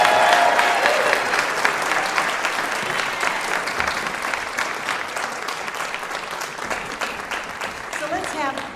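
An audience claps steadily for a group of scholars standing at a college fine arts and communication ceremony, the applause loud and sustained throughout, thinning slightly toward the end.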